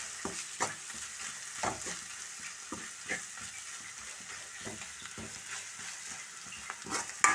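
Garam masala and fennel powder are stirred into a frying curry masala, with spaced spatula scrapes against the pan over a soft, steady sizzle and no voices.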